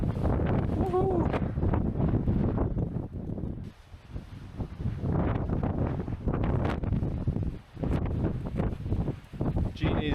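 Gusty wind buffets the microphone on a hilltop summit in New Zealand, loud rumbling roars that surge and briefly drop away, with faint rustling underneath.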